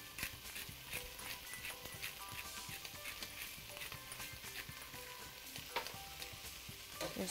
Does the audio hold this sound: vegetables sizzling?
yes